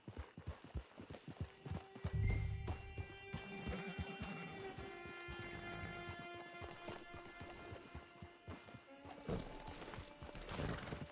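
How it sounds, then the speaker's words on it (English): Horse hooves clip-clop at a walking pace in the video game Red Dead Redemption 2, with uneven close steps, a brief heavier thud and a whinny, under game music. "Horse."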